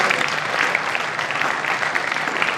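An audience at a Hindi comic poetry gathering (hasya kavi sammelan) breaks into steady, dense applause, many hands clapping together at an even level.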